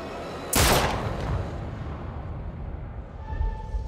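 A single loud gunshot blast in the video game Little Hope, followed by a rumbling decay and low background ambience.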